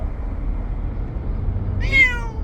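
A Bengal cat lets out a single loud meow inside a car on the way to the vet, over a steady low road rumble.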